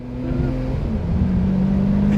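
Lamborghini Murcielago pulling away, its engine note rising steadily in pitch and loudness as it accelerates, heard close from inside the car without talk.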